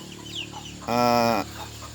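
White broiler chickens in a poultry farm setting, with soft background clucks and then a single loud, drawn-out squawk lasting about half a second, up close.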